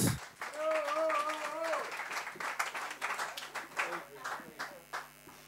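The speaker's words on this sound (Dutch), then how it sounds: "Dames en heren, een applaus voor Menno Rink smit" An audience applauds a performer at a spoken-word poetry night, clapping breaking out after a host's announcement and thinning into scattered claps, with the host's amplified voice heard over the start.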